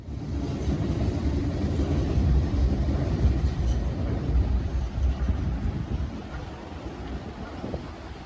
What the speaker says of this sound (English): and of course, a tram